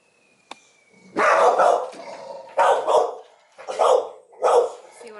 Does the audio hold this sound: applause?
no